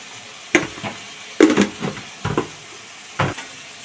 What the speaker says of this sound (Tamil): நல்லா வதக்கி